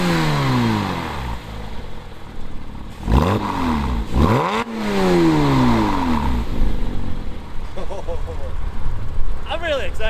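A 2006 Porsche Boxster S fitted with a Top Gear valved catback exhaust accelerates past and revs, its engine note sweeping up and down in loud, near bursts while people talk over it.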